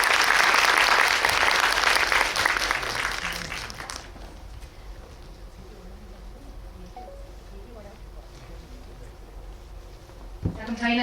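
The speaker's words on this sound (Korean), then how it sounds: "박수로 환영해 주세요." An audience at a special guest-visit film screening claps loudly in welcome for three actors. The dense applause runs about four seconds, then fades to a quiet room with low murmuring.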